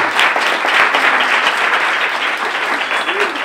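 Steady applause from a crowd, dense clapping filling the whole stretch at an even, loud level.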